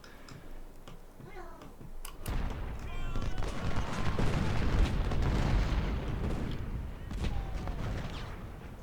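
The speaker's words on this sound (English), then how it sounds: "taken this cannon fire out in the middle of nowhere, in the open, for ages" Cannon artillery in the Civil War battle game Ultimate General: Civil War, a sharp boom followed by sustained rumbling barrages and scattered distant reports, loud and continuous.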